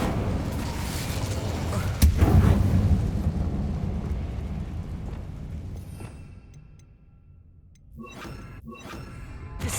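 Confringo and Incendio spell blasts go off in Hogwarts Legacy. A sharp burst at the start gives way to a rumbling, fiery roar that slowly fades, and crackling, shattering impacts follow later.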